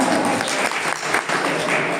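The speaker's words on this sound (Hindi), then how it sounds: "एक बार जोरदार तालियां रेडिएंट एकेडमी के लिए बजाएं, जोरदार तालियां।" An audience at a Radiant Academy event applauds after a guest speaker's motivational speech calls for loud clapping, a dense, steady wash of many hands lasting about two seconds with a hint of voices underneath.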